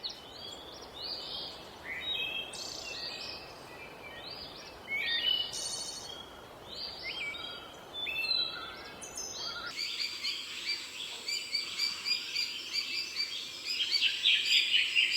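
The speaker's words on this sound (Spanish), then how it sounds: "Superb Fruit Dove, paloma frutera suprema." Wild birds in tropical Queensland, including a Superb Fruit Dove, give repeated chirping calls over a constant insect-like hiss, with a brighter, denser burst of calls toward the end.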